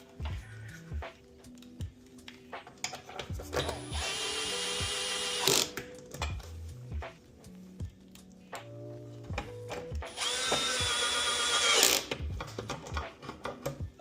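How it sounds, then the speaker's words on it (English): A power drill drives screws into the frame of a TKI CNC Standard Sonar Shuttle during assembly, with two long, loud whirring bursts separated by quieter clicking and handling noise. "now we can put our 2 front screws in."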